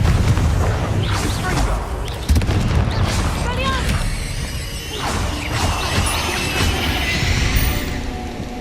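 The Confringo fire spell in Hogwarts Legacy sets off a loud, booming blast with crackling debris. It rolls on under a busy wash of game noise, music and a voice.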